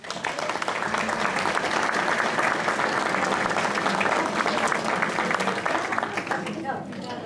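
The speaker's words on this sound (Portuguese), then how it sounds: "uma grande salva de palmas" A church anniversary gala crowd gives sustained, loud applause that stays dense and even for several seconds before tapering slightly at the end.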